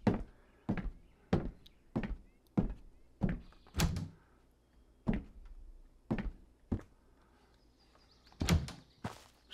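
A door in the Road to Vostok survival game shuts amid a run of sharp, evenly spaced thuds, each a hard close knock with a quick decay, repeating roughly every half second to second.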